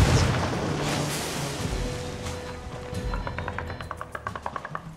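A grenade explodes in the Ghost Recon Wildlands shooter, a loud boom with rumbling debris, followed by a rapid series of sharp gunshots close by.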